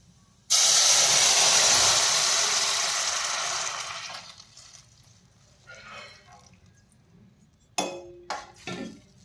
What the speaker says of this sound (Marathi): आता आपण यामध्ये दूध घालून घेऊयात